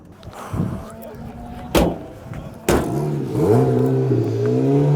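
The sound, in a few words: tuk tuk engine driving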